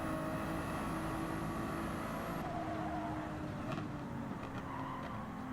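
A Ferrari 296 racing car in Gran Turismo 7 holds a loud, constant engine roar at speed, with a sustained high whine that cuts out partway and a few faint tire squeals later.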